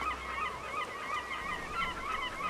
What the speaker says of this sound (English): Keep those chickens out of here. They get everywhere if you're not careful.